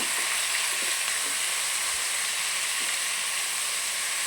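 Tuna fish curry sizzles steadily in a pan as it is stirred lightly, with a constant loud hiss of frying and a few faint scrapes beneath it.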